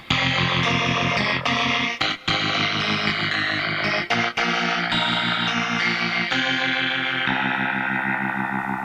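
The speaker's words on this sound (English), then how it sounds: "Nice tough rotary effects." A keyboard plays sustained chords and melodic lines through a DSP rotary effect, the tone swirling and shimmering with echo and chorus-like movement, loud and continuous with brief gaps between phrases.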